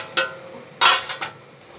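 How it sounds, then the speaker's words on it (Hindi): A spoon stirs ground roasted chickpeas into aloo kofta gravy in a pot, giving a few brief, close metallic scrapes and clinks against the pot with short pauses between them. "अब हम इसको मिक्स करेंगे"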